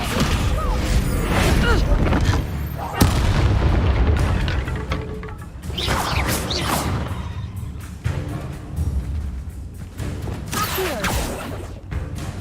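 Explosive Confringo spell blasts in Hogwarts Legacy combat, repeated heavy booms and crashing impacts over game music and effects, loud and close, with a voice shouting spell incantations throughout.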